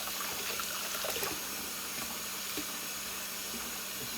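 Water runs steadily over a tool that has soap and hydrogen peroxide on it, a continuous close trickling hiss with faint clinks, with no talking.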